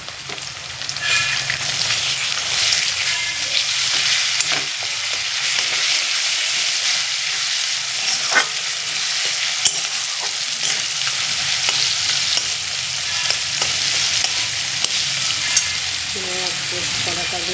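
Shrimp paste frying in a pan, a steady broadband sizzle that runs for the whole stretch, close and fairly loud, with occasional scraping stirs and small clicks of a utensil and no talking.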